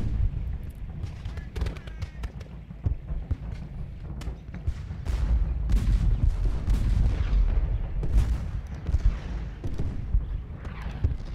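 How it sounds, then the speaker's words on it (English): Solid shot artillery in the Ultimate General Gettysburg Civil War battle game fires in repeated booming volleys, dense and overlapping through the middle, with a voice talking over parts. "Solid shot. Keep firing on them."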